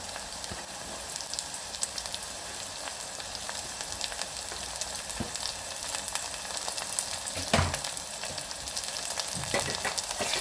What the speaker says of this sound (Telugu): ఉల్లిగడ ఎల్లిపాయ బ్రౌన్ కలర్లో మగ్గేంత వరకు ఇంకా మంచిగా వేగించుకోవాలి